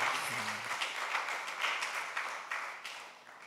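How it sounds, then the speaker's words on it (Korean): A church congregation applauds during a Sunday service, a fairly soft wash of many hands clapping that gradually thins out over a few seconds. "우리 박수로 큰 박수를 드리겠습니다"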